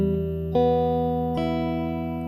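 Guitar strings plucked one after another, sixth, then third, second and first, giving a low note followed by a few overlapping ringing notes that sustain together, clear and close with no talking.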